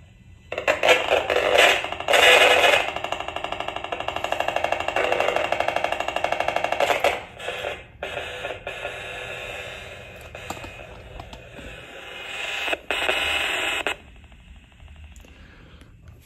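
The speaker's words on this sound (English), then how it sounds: "you'll hear the signals coming out" EMF meter audio output converting mobile phone signals to cell towers into sound, a loud buzzing, crackling electronic drone with rapid pulsing bursts that rise and fall in intensity, no talking.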